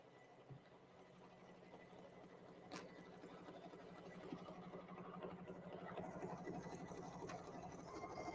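A home embroidery machine stitches lace for the front of a Christmas card, giving a steady, fast mechanical whirr with a low hum that runs throughout and grows slightly louder toward the end.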